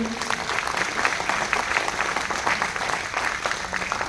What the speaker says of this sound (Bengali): একবার এদের জন্য জোরদার হাততালি।